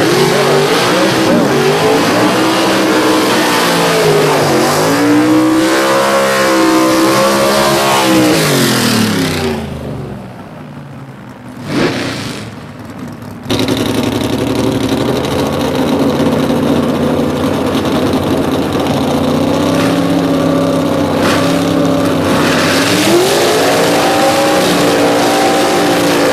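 A 1962 Chevy wagon gasser at a drag race roars loudly, engine revving up and down with heavy rising and falling sweeps, a brief near-silent gap, then another sustained loud run of engine noise.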